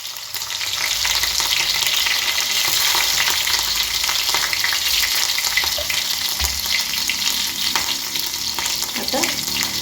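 Green chillies frying in a hot pan with a little mustard seed for potato sabzi, a loud continuous sizzle and crackle with faint utensil scrapes, no voices.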